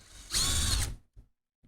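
A power tool whirs in one short, loud burst lasting about half a second while backing out a bolt holding up an old board, followed by two faint small knocks.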